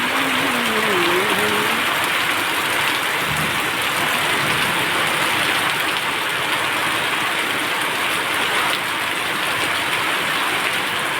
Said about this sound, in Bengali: খুব দমকা হাওয়ায় বৃষ্টি এবং ঝড় হচ্ছে